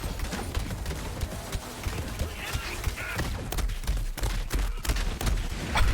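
Rapid bursts of Recursion weapon fire hit a group of targets in Borderlands 3, a dense, chaotic stream of shots and impacts running close and loud throughout.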